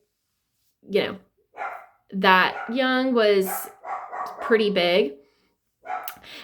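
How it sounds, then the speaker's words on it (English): A dog barks a few times in the background while a person talks steadily in the foreground. "I don't know if you can hear our dog barking"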